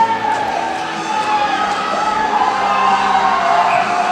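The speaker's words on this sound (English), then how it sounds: "The crowd is pleased." Hockey arena crowd cheering after a penalty call at a Kentucky vs. Akron game, a steady broad roar of many voices sustained throughout and swelling slightly toward the end.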